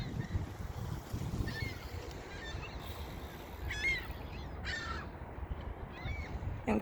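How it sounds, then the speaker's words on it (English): Crows cawing repeatedly at a distance over steady low outdoor rumble, with occasional honking calls, in Chicago at the start of spring. "Can you hear all the birds?"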